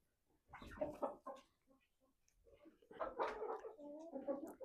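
Domestic hens clucking in a backyard poultry yard, short bursts of soft clucks and murmurs that rise into a louder, busier stretch toward the end, close by with no talk over them.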